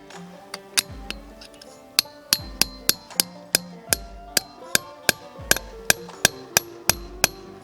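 A metal hammer taps a spile into a maple tree in a steady rhythm, each strike ringing with a bright, clinking ping, close up and loud.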